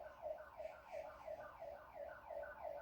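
Distant ambulance siren wailing in a steady repeating up-and-down cycle, faint and far off with no other sounds over it.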